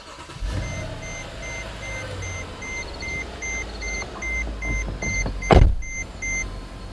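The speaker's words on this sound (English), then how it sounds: "So I'm gonna start the engine." A 2010s Mercedes GL450 with faulty air suspension starts up: repeated electronic dashboard chimes, a short loud starter burst, then a low idle rumble inside the cabin.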